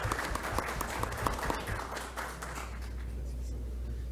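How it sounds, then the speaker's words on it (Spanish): Applause from the audience welcoming a guest at a Peruvian congressional party forum, brisk claps for about two and a half seconds that thin out and fade into low room hum. "Un fuerte aplauso, por favor,"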